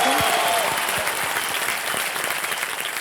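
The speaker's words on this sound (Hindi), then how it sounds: "जोरदार तालियां सुनील छेत्री" Studio audience applause on the KBC quiz show set for footballer Sunil Chhetri, a dense, loud wash of clapping that holds steady for the full three seconds with no voices over it.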